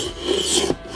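A Horl roller sharpener grinds a kitchen knife blade, giving a continuous close rasping rub that swells and fades slightly as the roller moves.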